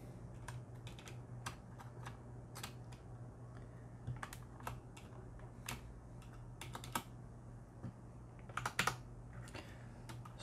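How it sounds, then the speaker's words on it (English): Keycaps are pried off a mechanical keyboard with a key removal tool, producing sparse, sharp plastic clicks and snaps at irregular intervals, close and crisp over a quiet room hum, with a quick cluster near the end. "how effective is the key removal tool with these larger keys?"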